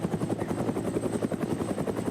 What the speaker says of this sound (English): As you see, we have the wonderful German helicopters.